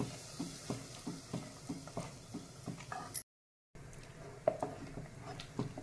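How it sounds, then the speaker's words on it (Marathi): Besan curry (pithla) stirred in a pan on the stove: a steady, rhythmic series of soft scraping strokes with a faint sizzle underneath, at close range, interrupted by a brief gap. "आणि पिठल्याला उकळी येईपर्यंत आपल्याला सतत ढवळत राहायचं आहे"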